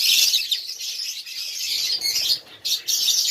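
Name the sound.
pet birds chirping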